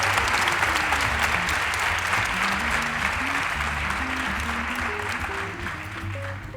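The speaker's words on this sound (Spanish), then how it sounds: "Un aplauso, por favor, para el estadounidense que pide disculpas por serlo" Audience applause at a live podcast recording, a dense, sustained clapping from a crowd that stays loud and even before easing slightly toward the end.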